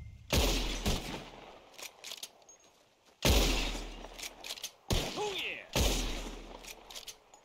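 Rifle shots ring out in a shooting competition in Red Dead Redemption 2, four sharp booming reports spaced a second or two apart, each trailing into a short echo, with faint game sounds between them.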